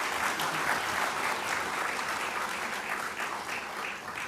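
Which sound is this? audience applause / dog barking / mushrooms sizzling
audience applause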